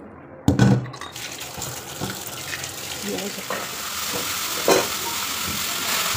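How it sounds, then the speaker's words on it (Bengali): Leafy greens being washed under a running kitchen tap, a steady broad splashing wash of water with a sharp clatter near the start and a brief louder splash later, no talking. "তো চলো শাকটা ধুয়ে নিই।"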